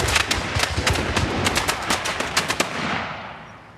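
Musket volley fire at a historical reenactment: a rapid ragged series of sharp loud cracks over about three seconds, each shot overlapping the next, then a fading rumbling echo.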